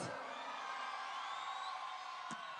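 Cheering and whooping fill the right side of a live concert crowd, a steady wash of voices with shrill whoops sliding above and a brief sharp thump near the end.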